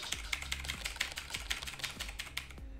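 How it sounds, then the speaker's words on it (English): Rapid, uneven keystrokes on a computer keyboard, clicks clustered in bursts with short pauses, close and fairly quiet with no voices. "you're mashing a keyboard"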